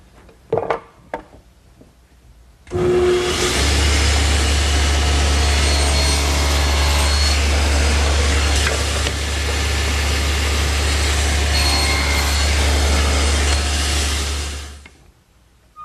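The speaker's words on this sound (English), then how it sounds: "The first cut is the shoulder cut on the face of each side of the board, and it's 3/16 of an inch deep." A table saw blade makes a 3/16-inch-deep tenon shoulder cut across the face of a wooden board. A few soft clicks come first, then the saw starts with a sudden loud, steady roaring whine that holds close and unbroken for about twelve seconds before cutting off.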